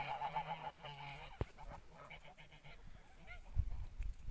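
Geese of the Kholmogory breed, blue, white and speckled, honk repeatedly in a loose, overlapping chorus on snow, fairly close, with a sharp knock partway through and a low thump near the end.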